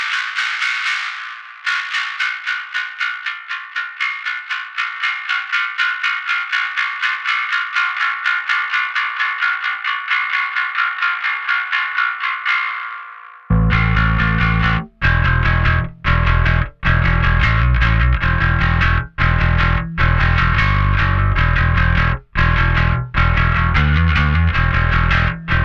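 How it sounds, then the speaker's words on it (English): High band of an Anagram Entropia B3K effect, soloed, giving a harsh metallic distorted tone: a buzzy sustained passage, then a louder, fuller section with rhythmic chopped gaps, no talking. "if you really just want to have a very metallic sound, we can go and grab the B3K again"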